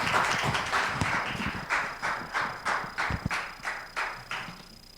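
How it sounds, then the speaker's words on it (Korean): Audience applause welcoming a guest missionary speaker at a church youth worship service, a dense sustained clapping that swells and then settles into rhythmic, slightly uneven claps. "우리 박수로 환영하겠습니다"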